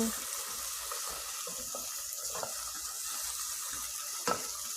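About a tablespoon of garlic sautés in roughly two tablespoons of oil, a soft continuous sizzle with faint irregular crackles and one small clack near the end, quiet and close.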